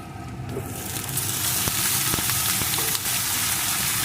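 Eggplant pieces and potatoes fry in hot oil for a katla fish curry, a loud steady sizzle that swells after the first half-second and carries on with crackling pops throughout, with no talking.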